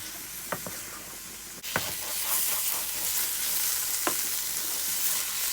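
Spices with turmeric frying in a pan for a rajmah base, a few spoon taps and scrapes, then a swelling, steady sizzle with an occasional stir, close by.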